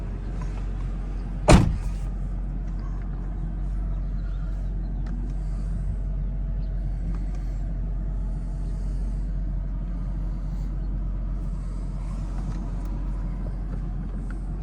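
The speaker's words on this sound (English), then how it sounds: "I'm going to drive it up onto these ramps, onto the loader." A 2003 Mercedes SL500 idling and creeping up ramps onto a loader: a low, steady engine rumble throughout, opened by a single sharp clunk, with faint mechanical creaks over the hum.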